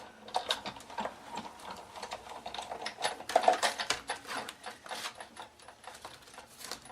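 A hand-cranked die-cutting machine rolls a sandwich of clear plates and an embossing folder through its rollers for a thank-you card, giving a steady run of quick, close ticking and clicking without any talk.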